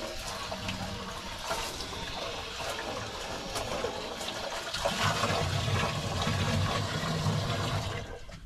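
Water rinses down inside a bass boat's live well, washing out fish scales and debris. It makes a continuous rushing, splashing flow that swells somewhat louder in the second half.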